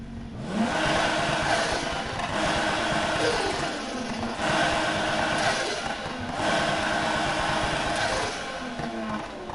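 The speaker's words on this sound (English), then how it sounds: "The engine sound on this game is so much perfect, unreal, with the turbo sound, everything." A car in the video game NFS Heat revs and accelerates through repeated gear sweeps, its engine roar rising and falling with turbo whoosh, loud and close with a noisy rasping edge.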